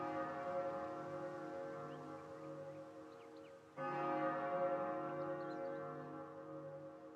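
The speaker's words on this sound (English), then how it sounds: "The bell rings" A tolling bell in the Professor Layton vs. Phoenix Wright video game rings with a sustained, resonant tone that carries on with a lingering hum, then a fresh strike renews it about halfway through. It is steady and fairly loud, with no speech over it.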